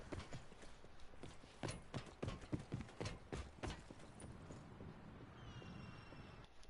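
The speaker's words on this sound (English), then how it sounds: "So right here I hear footsteps" Footsteps in the Call of Duty Blackout video game come as a run of sharp, quiet thuds in a steady rhythm, then fade out, leaving a faint, thin background.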